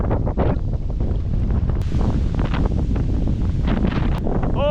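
Strong wind rips across a pond during kayak fishing, roaring and buffeting the microphone in loud, gusty bursts.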